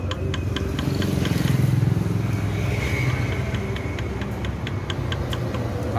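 Yamaha Vega ZR motorcycle engine running rough, a close, steady idle with rapid regular ticking and rattling over a low mechanical churn. Loudness stays even for six seconds.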